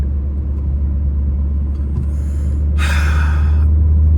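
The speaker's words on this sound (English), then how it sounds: "So currently, you're in the car with me." Inside a car moving through I-40 East traffic, a steady low road rumble and engine drone fills the cabin, with a brief louder hiss of passing traffic near the end.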